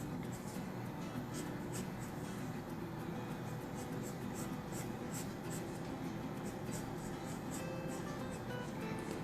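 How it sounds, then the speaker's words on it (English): Pencil sketching and darkening lines on paper while drawing a cartoon snake: a soft, continuous scratching close by, steady and quiet throughout with no talk. "So sketch lightly, then darken the line."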